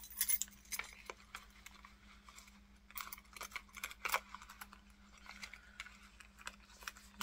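Keys pushed into a pocket of a Vera Bradley bag make faint, scattered metallic jingles and clinks, close and quiet over a low steady hum.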